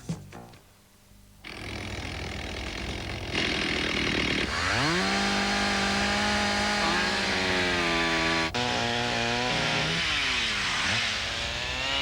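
A Stihl chainsaw starts up and runs loudly, its engine buzzing and revving up and down in pitch for several seconds, close by, in a 1986 TV commercial.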